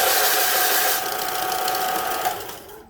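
A Harbor Freight belt sander with a repaired belt runs alone, a loud steady whirring drone with mechanical buzz that dips slightly as pressure is applied and then cuts off at the end.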